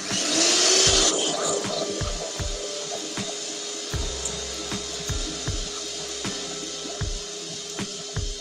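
An electric mixer whirs steadily through cake batter for a walnut and chocolate cake, with repeated knocks and scrapes of the beaters against the bowl and no talking.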